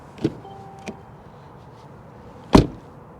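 A 2020 Mercedes-Benz GLC car door unlatches with a soft click, then shuts with a single solid thud a couple of seconds later, close by in a quiet setting.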